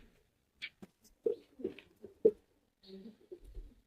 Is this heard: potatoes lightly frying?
no